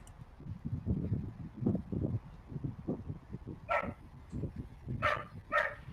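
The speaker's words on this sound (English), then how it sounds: "I guess the dog's gonna answer me" A dog barks repeatedly in a fairly steady rhythm, close and moderately loud, with a few higher yips and whimpers mixed in near the end.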